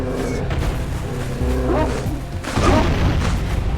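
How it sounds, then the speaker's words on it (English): In the Jak and Daxter video game, a cannon lobs bombs, producing heavy booming blasts with a louder burst near the end, over a busy background of game ambience. "Oh, it's that cannon over there."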